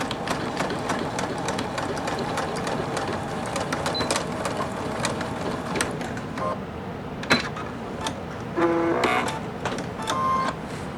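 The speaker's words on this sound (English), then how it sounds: "for this bottom, I would definitely suggest sewing over this a couple times" A sewing machine runs steadily, stitching over the bottom seam of a beach tote bag in a dense, rapid mechanical patter, with a few brief clicks and pauses near the end, close up and without talk.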